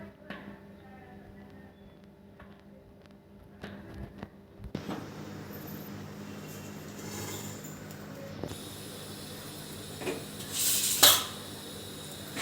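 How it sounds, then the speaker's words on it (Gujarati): Steamed muthiya being cut into pieces with a knife, giving soft scattered taps and clinks of the blade against a plate or board, with several brighter clatters of utensils late on, at close range and with no talk. "હવે આપણે આના કટિંગ કરી દઈશું."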